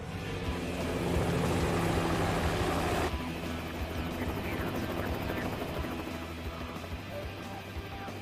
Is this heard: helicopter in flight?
yes